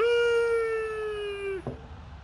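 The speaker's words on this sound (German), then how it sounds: "Mein Hund jammert, warum auch immer." A dog lets out one long, steady, high-pitched howl that holds for over a second before dropping off, followed by a short whimper, close and loud.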